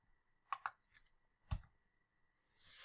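Mouse clicks sounding as a few sharp, faint, isolated ticks with gaps between them, heard alone in a quiet room while working in a code editor.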